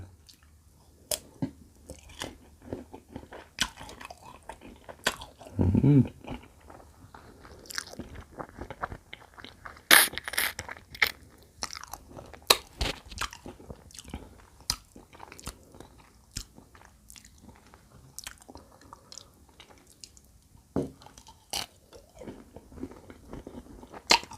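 Someone bites and chews ripe brown-fleshed tamarind pods close to the mic. Crisp crunchy snaps of the shell alternate with softer, wet chewing in an irregular rhythm, and no one talks.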